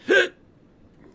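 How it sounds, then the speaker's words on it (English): A single short, sharp hiccup from a character in Final Fantasy XIV: Stormblood, close and fairly loud, followed by near silence. "Sorry, that was a hiccup."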